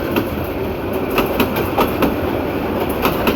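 Dhaka-bound Chattala Express intercity train with a 2900-series locomotive enters platform 1 at Bhairab Bazar Junction, its cars rumbling steadily with a regular clickety-clack of wheels over rail joints, fairly close and without speech.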